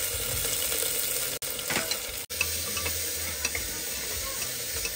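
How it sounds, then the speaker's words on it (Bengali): Khichdi stirred and frying in a pot outdoors in the cold, with steady sizzling and a few scraping strokes of a spoon, close and fairly quiet, two brief dropouts and no talk. "আমরা ঠান্ডার মধ্যে এখানে রান্না করছি, খিচুড়ি হবে এখানে।"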